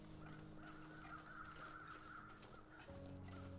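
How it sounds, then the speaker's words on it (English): Crows caw in the survival video game The Long Dark, faint and distant, with repeated calls over a quiet ambient backdrop. "The crows are circling something."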